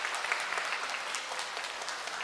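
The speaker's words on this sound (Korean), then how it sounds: "감사의 박수 한번 올리도록 하겠습니다" A church congregation at an Anglican Epiphany Eucharist gives steady, dense applause throughout, with a brief voice underneath.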